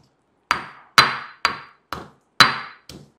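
Green chillies, salt and coriander pounded for a fasting chutney: six sharp, close, evenly spaced thuds, each decaying quickly, with no talk.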